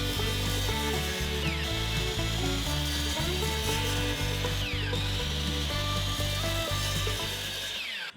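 A power saw cuts black walnut wood into cubes, running steadily and loud throughout with repeated rhythmic cutting strokes and ratcheting mechanical noise, no voices.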